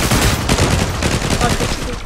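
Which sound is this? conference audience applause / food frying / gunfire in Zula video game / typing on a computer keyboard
gunfire in Zula video game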